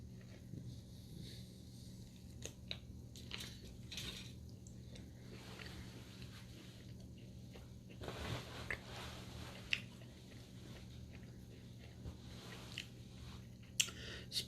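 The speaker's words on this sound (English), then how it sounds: "we're going to go ahead and take a bite of it now" Someone bites into tender, spicy smoked beef ribs and chews, quiet close-up mouth sounds with soft wet squishes and occasional crunchy clicks, no talking.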